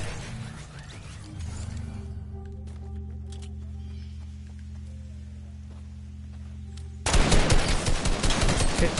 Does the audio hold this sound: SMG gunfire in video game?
yes